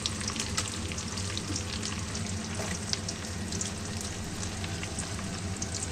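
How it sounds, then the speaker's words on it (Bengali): Chopped onion fries in hot oil for chili chicken, giving a dense, even sizzle that holds steady and close throughout with faint crackles on top. "এবার দিয়ে দেবো পেঁয়াজ কুচি, ডম ডম করে"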